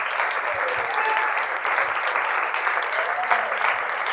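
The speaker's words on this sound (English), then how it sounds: "We really can't clap long enough for you guys." Dense, sustained audience applause for swing dance legend Norma Miller and her guests at a Lindy Hop event, a steady roar of many hands clapping with no break.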